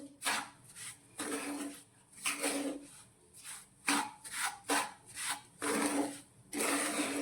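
Grated coconut is stirred in a pan while making Gujarati sweet ghughra, giving repeated scraping, rubbing strokes in uneven bursts, close and fairly quiet, with no talking.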